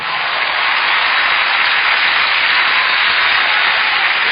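A studio audience claps loudly and continuously, a thick, even wash of applause running from start to finish with no talk over it.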